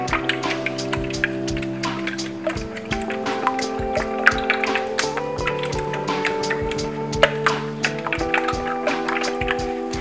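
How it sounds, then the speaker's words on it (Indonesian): Eggs are beaten by hand with a whisk for a caramel custard pudding, making rapid, light clicking taps against the bowl in a steady busy rhythm while soft background music plays. "Selanjutnya kita akan kocok telur dengan hand whisk saja."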